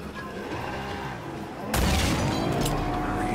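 Gunfire erupts during an ambush in Uncharted: Drake's Fortune, an abrupt loud onset of rapid shots and crashing impacts over a rumbling game soundtrack, continuing densely to the end.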